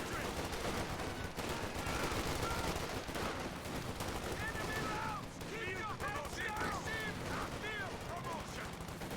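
Machine gun fire in a World War II strategy game battle, dense overlapping bursts and distant explosions forming a continuous busy battlefield din with chatter-like effects layered in.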